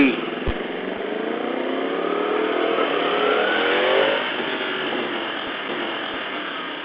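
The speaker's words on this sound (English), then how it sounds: "Look at that, Yamaha MT10 SP." A Yamaha MT10 SP motorcycle revving past, a loud, steady engine roar that swells toward the middle and fades slightly, heard through wind noise from a riding vlogger's mic with someone talking.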